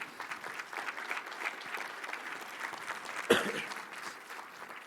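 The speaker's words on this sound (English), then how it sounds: "round of applause for the union guys" An audience at the Rock Island State of the City address applauds the union workers with moderate, continuous clapping from a crowd, one sharp louder clap or knock midway before the applause eases.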